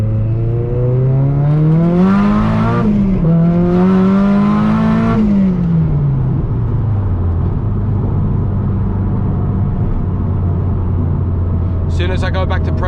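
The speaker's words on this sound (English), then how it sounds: "Do a little second to third gear pull on low boost." A Nissan S15 on low boost makes a second to third gear pull, its engine climbing in pitch twice with a shift dip between, then easing to a steady drone and ending with a brief whoosh.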